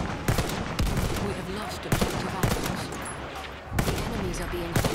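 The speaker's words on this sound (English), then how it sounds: "I see you fucking shooting me." Battlefield 1 gunfire crackles in repeated sharp shots and short automatic bursts, some close and loud, others more distant, over a rumbling battlefield background.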